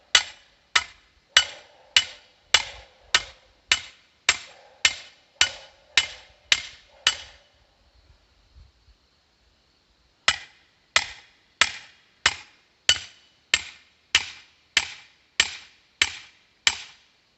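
A 3.5 pound hammer drives a target stand into rocky ground outdoors, ringing out as sharp, evenly paced metallic blows, about a dozen in a row, then a pause of a few seconds before another steady run of strikes.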